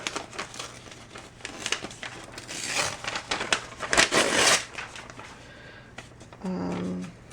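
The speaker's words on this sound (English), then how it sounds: "So I think I'm going to tear that out" A page being torn out of a mixed-media art journal, a run of close, loud crinkling and ripping paper with bursts of tearing, followed by a low buzzing hum at the end.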